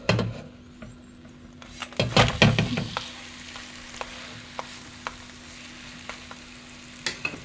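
Spinach börek fries in oil in a pan, a faint steady sizzle with a burst of louder scraping and clattering as it is flipped, then scattered small ticks and pops.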